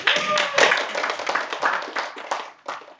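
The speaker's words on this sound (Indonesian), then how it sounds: "Tepuk tangan dong untuk Vina" A small group applauds with brisk, uneven clapping that holds steady for a few seconds, then thins out. A voice is briefly audible at the start.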